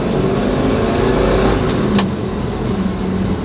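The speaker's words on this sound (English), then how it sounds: "It looks like we have a really nice opportunity here to open the 302 up." A 1969 Chevy Camaro Z/28 with its 302 V8 rumbles loudly from inside the car as the engine is opened up on the road, a steady, dense roar that holds throughout.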